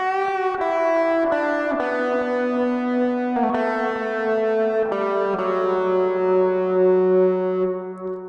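Overdriven electric lead guitar plays a riff, a steady melodic line of ringing, sustained notes changing every second or so, with a brief note-slide flourish partway through.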